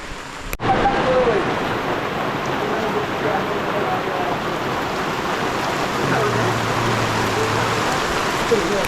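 Steady, dense hiss of unseasonal heavy rain pouring down throughout in a Konkan village, with a sharp knock near the start and faint murmur of voices beneath the downpour.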